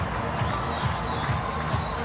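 A stadium crowd at a Penrith Panthers v St Helens rugby league match roars in a dense, sustained wash of cheering, with a voice faintly under it.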